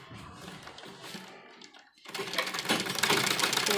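A sewing machine stitches buckram along a neckline, starting softly before a pause and then whirring loudly and rapidly at close range.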